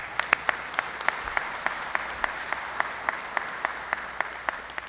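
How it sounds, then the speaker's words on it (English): An audience gives a round of applause at a veterans appreciation day event. Broad, steady clapping is heard, with one sharp clap standing out near the front and repeating at a regular beat throughout. "Give him a round of applause,"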